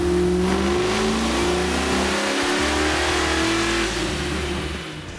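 A supercharged LS7-based 427 V8 in a Camaro, topped with an LS9 blower and making over 800 horsepower, roars loud and close in a sustained rev that eases off toward the end.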